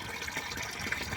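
Water flows through the pipe of a home hydroponic vegetable and leafy greens setup, a faint, steady trickling gurgle with soft splashes and no voices.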